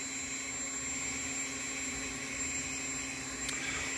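A Walbro 525 electric fuel pump runs on a flow test bench at 40 psi and 13.5 volts, a steady, even whine and hum with no change in pitch, held constant for the whole stretch.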